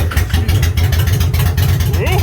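Motorcycle engine idling loudly in a garage with a steady, throbbing low rumble, close by, while a person talks over it.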